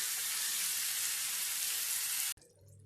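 Chicken sautéing with masala in a pan for a restaurant-style chicken handi gives a loud, steady sizzle that runs unbroken for over two seconds, then cuts off abruptly to a quieter low background.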